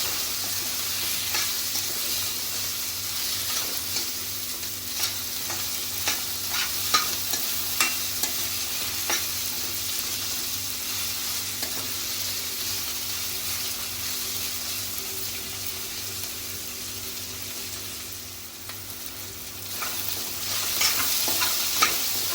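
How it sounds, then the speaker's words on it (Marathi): Tomato frying with softened onion for a fenugreek-greens (methi) bhaji, giving a continuous even sizzle with frequent light spatula stirs and scrapes in the pan. It stays close and steady for a long stretch, and no one speaks. "टोमॅटो घालूया टोमॅटो अगदी थोडा परतून घ्यायचा आहे"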